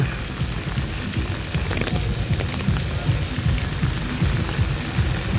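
Heavy rain from Typhoon Tino pours down in Cebu City, a dense continuous roar of drops drumming on surfaces close by with steady low rumble underneath, no voices.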